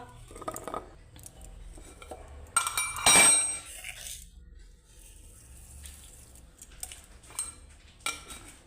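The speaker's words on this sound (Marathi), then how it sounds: "आता थोडी साखर टाकते साखरचा डबा" A sugar tin is opened and sugar is spooned into a pan of curd and melted ghee, giving a short burst of metallic clinks and scraping at close range amid quiet kitchen sounds.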